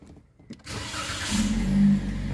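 A Toyota Yaris engine starts with a duplicated smart key, a brief cranking then a steady, close mid-pitched idle hum that grows slightly louder and holds.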